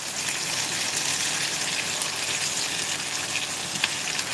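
Onion and capsicum fry in a pan with a continuous, even hiss of sizzling oil, close and fairly loud, with no voices.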